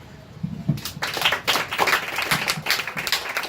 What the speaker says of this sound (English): How do you guys clap? Like, show me how you guys clap.